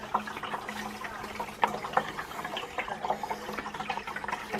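Water runs steadily into a hybrid water heater tank in freezing weather, a continuous close rushing and trickling with small splashy surges and no talk over it.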